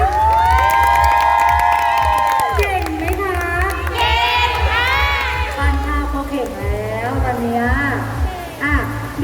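A crowd at the Asianfest event in The Mall Bangkapi cheers and shouts, children's voices prominent, with some clapping beneath steady loud noise and amplified music or voices throughout.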